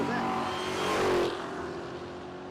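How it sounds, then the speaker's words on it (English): A 2015-model Corvette revs and pulls away at a drag race at the Texas Motorplex, a loud engine roar that swells and fades under an announcer's voice over the track PA. "Donna Watson in the left lane, the 15 model Corvette."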